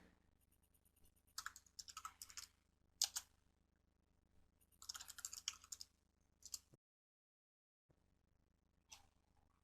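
Bursts of quick keystrokes on a computer keyboard entering commands into MATLAB, close and crisp, separated by short pauses and one brief silent gap.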